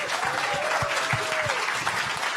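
An audience gives a panel a round of applause, dense steady clapping filling the room, with a brief faint voice or tone sliding through the middle.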